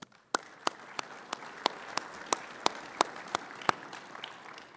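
At a public summit, an audience applauds its sponsors with sparse, evenly spaced claps, a few per second, standing out sharply over a low room murmur.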